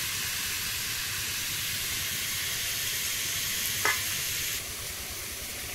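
Potatoes fry in a pan with a broad, constant hissing sizzle heard up close, broken by one short sharp clink near the end. No one speaks.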